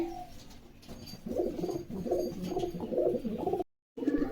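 A pair of Giribaj-line pigeons cooing close by, repeated soft throaty coos in a steady rhythmic series, with a brief dropout near the end.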